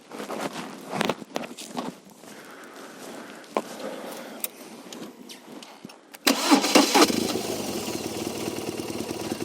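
Starter cranking and firing of a 1200 GS DOHC motorcycle engine, which catches loudly partway through and settles into a steady running roar, after faint scuffs and handling noises beforehand.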